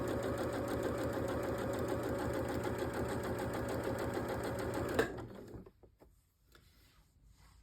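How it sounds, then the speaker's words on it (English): A sewing machine runs steadily, stitching a quarter-inch seam that joins two quilt strips, a close, even mechanical whir that stops abruptly partway through and leaves near silence. "I'm going to work my stitches 1/4 inch all the way along to join those 2 strips"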